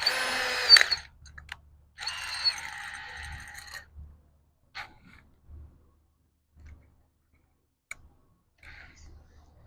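A power drill drives 2.5-inch pocket-hole fasteners with a Kreg K5 jig: two close whirring bursts of about a second and two seconds, then scattered soft clicks and light taps in near quiet.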